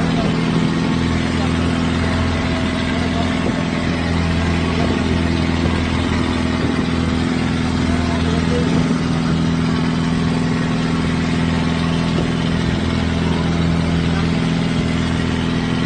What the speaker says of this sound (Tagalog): malakas po ang tunog ng makina ng pambot